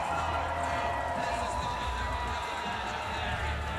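A steady, dense roar from spectators at a mixed team aerials skiing competition, unbroken throughout with a commentator talking over it.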